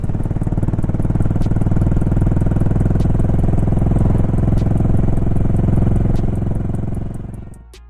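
A Suzuki Burgman S40 motorcycle engine runs at a steady, loud, chugging rhythm up close, with faint periodic ticks above it, then winds down and fades away over the last second.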